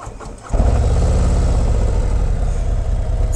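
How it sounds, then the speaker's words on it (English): A stock 2024 Harley-Davidson Road Glide fires up after a brief starter whir, then settles into a loud, close, deep and steady rumbling idle. "Stock motorcycle. It's exactly what it's gonna sound like."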